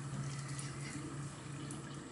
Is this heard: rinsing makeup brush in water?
yes